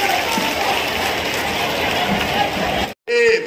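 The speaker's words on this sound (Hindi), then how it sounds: "एक बार जोरदार तालियां बजती रहे।" Loud, dense applause from a crowd at an outdoor political rally in Tikamgarh for the state chief minister, a steady roar of clapping that cuts out briefly near the end before a voice returns.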